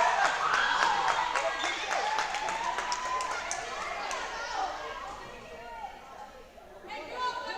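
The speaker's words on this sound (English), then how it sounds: "Montana Trout gets a spike down, and the crowd erupts." Crowd at a high school volleyball match erupting after a spike, a loud sustained roar of cheers and children's shouts with some clapping that slowly fades, then swells again near the end.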